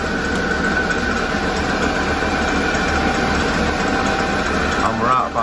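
A knife-edged crankshaft spins on a balancing machine, giving a loud, steady, continuous mechanical whir and hum that holds constant throughout and sits close up.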